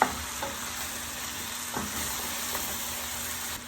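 Beef cubes sizzle steadily as they are sautéed and stirred in a pan, a close continuous frying hiss broken by a few spoon scrapes, no talking.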